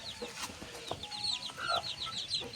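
Chickens and a rooster in a home setting with young chicks nearby, giving repeated short clucks and chirpy calls at close range over a steady background hiss.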